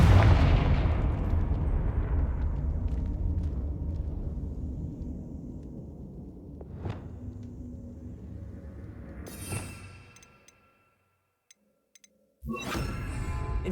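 Repeated Confringo blasting spells detonate in Hogwarts Legacy, a loud deep rumbling explosion that slowly decays, followed by sharper blasts near the end, a brief silence, then another burst.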